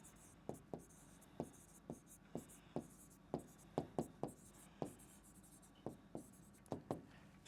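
Chalk or marker tapping and scratching on a classroom board as a teacher writes main points, a series of crisp close taps in an irregular rhythm with quiet room tone between.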